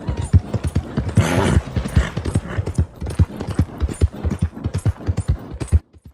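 Rapid rhythmic hoofbeats of a Tennessee Walker horse in a video game clip-clop at a gallop, close and steady, with a brief whooshing swell partway through.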